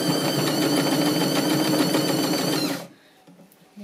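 A sewing machine runs steadily at close range, stitching fabric for a storage cube with a fast, even whirring hum, then stops abruptly near the end.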